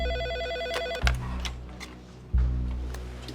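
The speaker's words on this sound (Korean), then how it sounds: "대표이사님 전화입니다." A telephone rings with a steady, repeating electronic bell tone in an office during a typhoon that is flooding the Pohang steelworks, heard clearly and alone with no voices.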